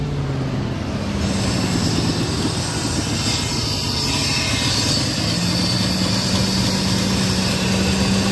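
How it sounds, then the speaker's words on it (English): A 2000 Ford F-150 pickup's 4.6 L engine idling rough, a continuous low rumble with uneven pulsing, close and steady throughout. "My truck's running rough."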